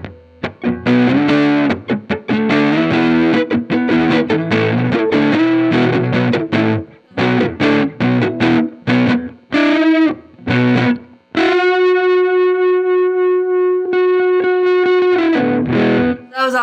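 Electric guitar through a Rude Tech Ain't Afraid fuzz pedal on the neck pickup, loud and saturated: choppy, stop-start riffing with brief gaps, then a long sustained fuzzy note ringing out before a final burst of playing.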